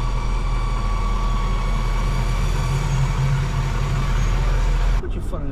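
A Maybach 62 engine drones loudly and continuously from inside the car, with the high thin whine of its supercharger running over the low engine rumble until it suddenly cuts away near the end.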